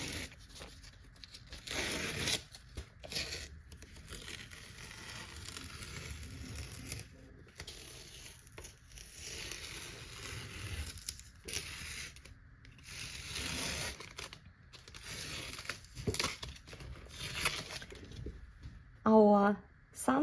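Paper tape being peeled slowly off a sheet of watercolor paper after painting a sunset sky, giving long tearing, crackling rips broken by short pauses, close and fairly quiet, with no talking.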